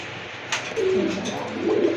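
Black Rajgolla pigeons with pot-shaped necks giving a short, soft cooing call close by, with a brief flutter or rustle just before.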